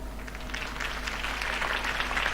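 Steady crowd applause and cheering from Batman: The Telltale Series fills the whole stretch, a dense wash of clapping without any voices standing out.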